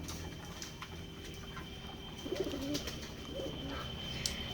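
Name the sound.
pigeons cooing on a pigeon farm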